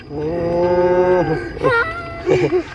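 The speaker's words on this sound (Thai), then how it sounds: "อันนี้เป็นงัวควายของน้องหลานน้อยเพิ่น" Cattle and water buffalo belonging to a child in rural Thailand mooing, one long sustained low call followed by two shorter lowing calls, close and loud with no speech.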